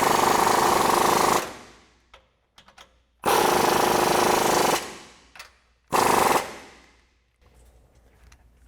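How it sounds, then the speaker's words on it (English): An impact tool with a 17mm socket tightens mount bolts on a 2022-2024 Toyota Tundra during a 3-inch suspension lift install, in three loud close rattling bursts separated by quiet pauses. "we can go back and tighten down our two bolts on each mount. So we'll take a 17mm socket to do that."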